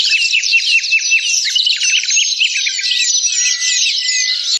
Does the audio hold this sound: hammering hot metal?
no